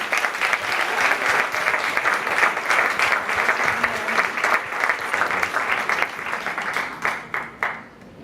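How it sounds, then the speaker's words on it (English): An audience gives a sustained round of applause as performers are invited onto a stage, dense steady clapping that thins into a few scattered claps near the end. "Let's give them a round of applause."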